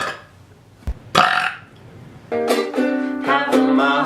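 A single loud burp rises in a long, drawn-out, tonal croak after a brief hum and a short sharp noise, close to the microphone with no talking over it.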